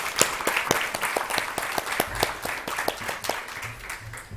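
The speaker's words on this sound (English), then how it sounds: "Let's give her a big applause as well." At a UNDP biodiversity finance conference, an audience applauds steadily, with dense, moderately loud clapping sustained throughout.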